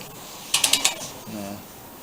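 Several quick ratcheting clicks from a torque wrench as the bolts on a VW bus fuel sending unit are tightened in a star pattern to about 10 foot-pounds, four sharp close clicks followed by a soft low rumble.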